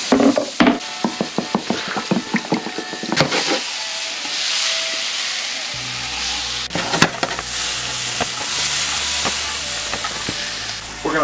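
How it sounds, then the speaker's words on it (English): Diced tomatillo chunks sauté in rendered ribeye fat in a pan, giving a loud, steady sizzle with brief stirring clatter early on, heard alone without voices. "I've diced up the tomatillos into fairly large chunks, and I'm just sort of sauteing them with the ribeye fat."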